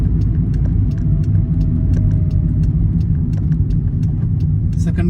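A car in second gear on a UK road near Farnborough, with its engine making a loud, steady low rumble from inside the cabin and light rattles and ticks over it; a voice speaks briefly.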